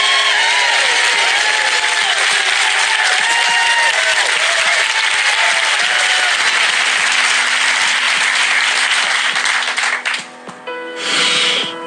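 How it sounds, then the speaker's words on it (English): Studio audience on the TV game show Deal or No Deal applauding loudly and continuously, joined by bright game-show music stings, before the clapping thins out and fades near the end. "could you give yourselves a cheer?"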